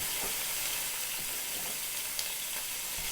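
Gumbo ingredients sizzle and fry steadily in a pot, a dense continuous crackle with occasional pops and stirring scrapes, close and fairly loud with no voices.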